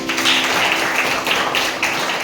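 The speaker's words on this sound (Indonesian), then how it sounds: "tepuk tangan buat itu" A classroom at a Jakarta vocational high school applauds during a student-teacher's marketing lesson, a steady, moderately loud patter of many hands clapping together with no voices.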